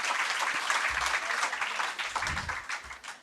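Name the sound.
audience applause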